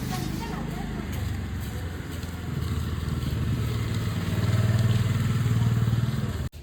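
A motor scooter runs nearby with a steady, buzzing engine drone that rises toward the end of the ride before a sudden drop, while voices talk over it.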